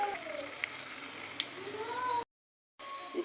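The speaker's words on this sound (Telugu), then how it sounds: "ఇప్పుడు ఆ చట్నీలో పోపు వేసుకోవాలండి" Hot tempering poured into ground ivy gourd chutney sizzles softly and crackles with a few small pops, fairly faint, cut by a brief silent gap before the frying hiss returns.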